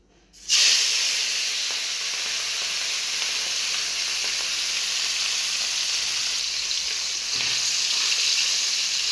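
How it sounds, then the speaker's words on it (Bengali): Fish rubbed with turmeric and salt hits hot oil in a wok with a sudden burst, then a loud, steady close sizzle and hiss continues without pause, no voices present. "মাছগুলোকে একটু ভালো করে ভেজে নেব।"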